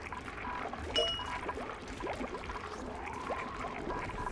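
Water flows and pours in the video game Oxygen Not Included, a soft, continuous trickling wash with faint bubbling and a brief ding near the start, quiet and without speech.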